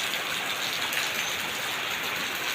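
Heavy rain pours down in a steady, dense hiss that stays loud and unbroken from start to finish, with no voices over it.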